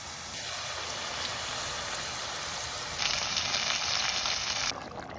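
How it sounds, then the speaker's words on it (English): Fish and sliced tomatoes fry in a pan with a soft continuous sizzle and hiss. It swells louder and brighter for a couple of seconds near the end, then drops back. "Just fry it for about 2 to 3 minutes on each side."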